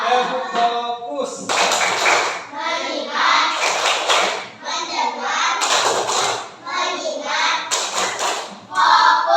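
A group of schoolchildren in a classroom perform the tepuk fokus routine, sharp rhythmic bursts of clapping in short sets alternating with chanted words, close and loud with children's voices throughout.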